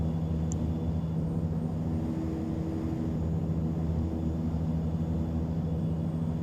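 Steady wind and engine drone inside an Epic E-1000 turboprop in X-Plane 10 on a gusty crosswind approach, a constant low rumbling hum with a broad airy hiss over it, unchanging and fairly quiet.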